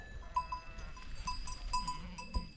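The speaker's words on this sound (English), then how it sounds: "Stuck in the sheep." Sheep bleating on a mountain road in the Alps during a cycling descent, several short calls scattered among constant wind and rolling noise, with one louder close bleat near the end.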